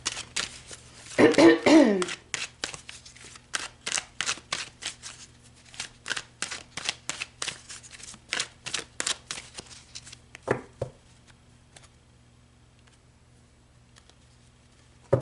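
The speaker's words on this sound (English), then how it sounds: "let's pull some more cards" Oracle cards being shuffled by hand in a quiet room, a rapid series of close riffling, slapping bursts with brief pauses, plus a cough or throat clear near the start.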